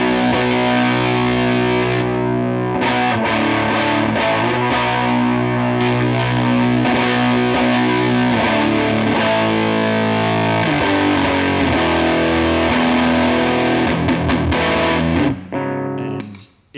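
Electric guitar through a Nerd Knuckle Effects boost pedal into an amp, loud and overdriven, with sustained chords and quick riffs continuing for a long stretch before cutting off.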